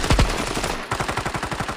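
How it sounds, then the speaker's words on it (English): An AK-47 firing in a Standoff 2 match, with a loud close burst followed by a rapid rhythmic string of automatic shots, alone and sharp. "Both are trading the bullets, and again Levy takes him out with a headshot from the AK-47"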